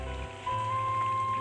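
Steady rain pours on a village house set among rice fields during the rainy season, a dense continuous hiss with a low rumble and a faint steady tone underneath, no voices.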